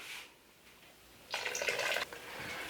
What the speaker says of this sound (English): And then I do need to add a little bit more water